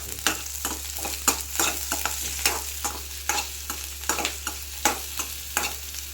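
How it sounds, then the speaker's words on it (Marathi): Onion fries in a pan while a spatula stirs it, giving a quiet sizzle over a steady low hum, with repeated regular scraping strokes about every half second. "यात कांदा परतून घेतो कांद्याला थोडा ब्राऊन होईपर्यंत"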